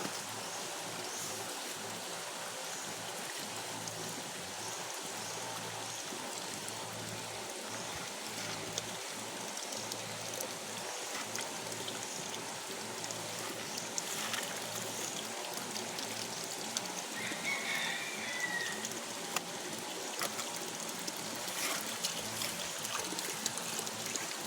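Water runs in a homemade spring water setup, a continuous, fairly quiet stream and trickle with a steady splashing hiss and occasional small drips, heard alone without talk.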